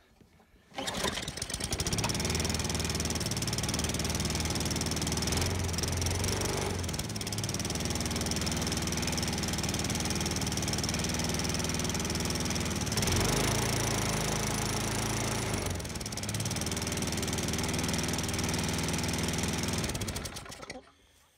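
A small gasoline motor on a homemade machine called the ComCHOMPinator runs loud and steady for about twenty seconds after starting, then cuts off, with no talking.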